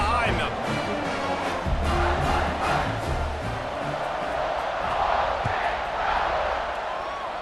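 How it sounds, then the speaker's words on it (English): A stadium crowd in the EA Sports College Football 26 video game roars at a steady, dense level as kickoff nears, with swelling cheers and no clear single voices. "this crowd now ready to get behind them"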